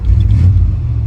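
An old family heirloom truck idles with a deep, steady engine rumble close by, loud and even throughout the short stretch.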